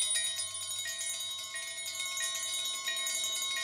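Little bells in a Looney Tunes cartoon ring in a steady, bright, shimmering jingle that runs throughout, with many overlapping chimes and no talking.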